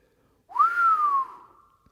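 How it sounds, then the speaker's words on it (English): A man whistles a single smooth downward glissando, the tone sweeping briefly up and then sliding slowly down before fading. It is close, clear and alone, lasting a little over a second. "He whistled a downward glissando and said,"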